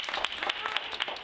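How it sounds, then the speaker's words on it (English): An audience gives a round of applause for a presenter at a children's science week event: steady, dense clapping from a crowd that carries on at an even level for the whole short stretch. "So can we have a round of applause please for Abby?"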